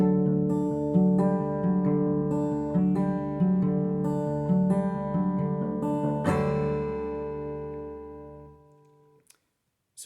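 Acoustic guitar played as a single low 6th-string note, a high 1st-string note, the low 6th again, then a full ringing strum that decays near the end; close and clear, with no talking.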